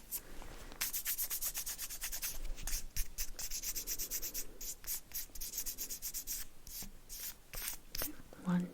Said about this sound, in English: And I'm gonna just add the wax sheet.